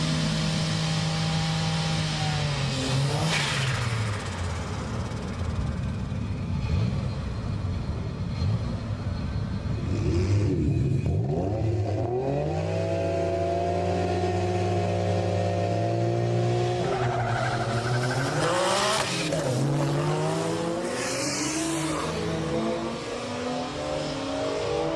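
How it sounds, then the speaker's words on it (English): Twin-turbo 2JZ Toyota Aristo JZS147 automatic sedan drag racing, its engine revving hard and climbing through distinct gear shifts, loud and close, with tire squeal and a second car nearby. "Might have noticed by the sound that that Aristo was actually an automatic."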